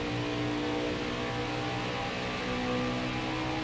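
Racing truck engine in a NASCAR video game at a Kansas 250 race, holding a steady, droning rev with a high-pitched whine throughout, close and continuous.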